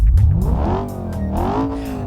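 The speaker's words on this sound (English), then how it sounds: "this thing has twin exhausts plus a turbocharged engine. 361 horsepower. Let's listen to it." The turbocharged 361-horsepower engine of a Procyon Avior luxury sedan with twin exhausts revs loudly in the BeamNG driving game, its pitch dipping and then climbing again in a close, sustained roar.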